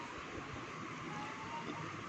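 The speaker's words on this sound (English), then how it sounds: "the metro train" A Delhi Metro train runs with a steady, even rumble and broad rushing noise throughout, close and continuous with no pauses or voices.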